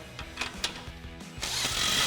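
A ratchet tightens an exhaust tip clamp on a Chevrolet Silverado dual exhaust system, giving a run of quick metallic clicks and then a longer rasping ratchet sweep, close up and fairly quiet.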